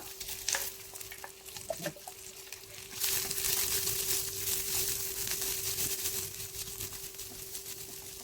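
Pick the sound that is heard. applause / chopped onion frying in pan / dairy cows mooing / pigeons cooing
chopped onion frying in pan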